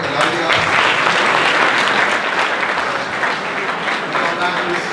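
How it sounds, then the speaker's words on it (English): Applause from an audience at a school gathering for the principal, a steady dense wash of clapping that stays loud throughout the clip, with voices mixed in. "Another round of applause for the principal"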